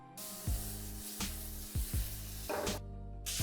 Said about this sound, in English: I'm going to heat a small frying pan. I'm going to add a spoonful of margarine.